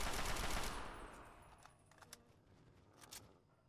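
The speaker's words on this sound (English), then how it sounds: "this assault rifle is a little broken" An assault rifle in the Fallout 3 video game fires a dense burst at the start that fades into a tail of scattered metallic clinks and a few sharper pops, all fairly faint.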